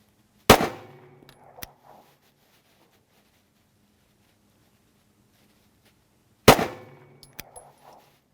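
SIG Sauer P320 Nitron pistol fired without a suppressor while shooting a group: two sharp, loud gunshots about six seconds apart, each with a short ringing decay and a faint clink of brass afterward, with quiet in between.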